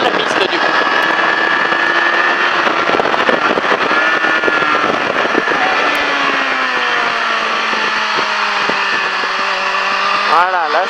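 A motorcycle on a race circuit at La Ferté Gaucher holds a loud, steady engine drone, its pitch dropping then sweeping back up near the end, with a voice talking over it.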